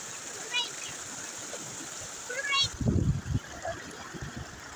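A fish is released from a plastic bag into water, giving a short burst of close splashing midway through. Lighter watery trickling and faint voices run in the background before and after.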